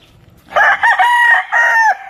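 A Larry Romero Raptor Sweater broodstag crows loudly and close by, one full call in several strained bursts with short breaks, in an otherwise quiet setting.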